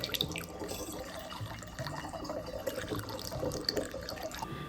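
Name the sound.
pouring Brita filtered water for mead brewing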